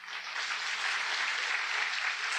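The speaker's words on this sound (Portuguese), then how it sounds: "Aplauda bem forte ao Senhor." A church congregation claps loudly and steadily, a dense wash of applause with no pauses, from a large gathering.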